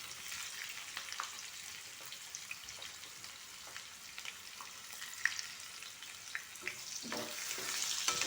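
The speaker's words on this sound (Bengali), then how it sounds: "পিঁয়াজখিনি দি ধুনীয়াকৈ ভাজি ল'ম পিঁয়াজখিনি" Onions frying in a pan for a goat meat and yogurt curry, a steady soft sizzle throughout with occasional faint scrapes of stirring, growing slightly louder toward the end.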